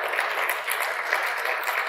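A church congregation claps during a sermon, producing a short, even patter of many hands at moderate loudness with no voice over it.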